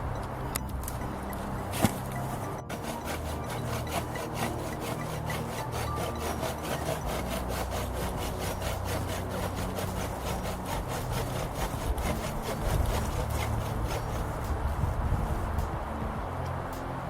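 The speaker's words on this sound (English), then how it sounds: "Sawing takes a lot of energy. All we really need to do is cut halfway through the tree" Steady back-and-forth sawing through a tree, a continuous rasping stroke rhythm that runs the whole time, close by and fairly loud.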